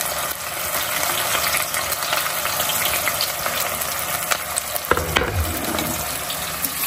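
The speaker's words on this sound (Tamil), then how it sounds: "ஓகே நம்ம வெங்காயத்தை தள்ளிப்போம்." Onions stirred and fried in a pot for mutton biryani: a loud, continuous sizzle with scraping stirs, and a sharper clatter and rustle near the end.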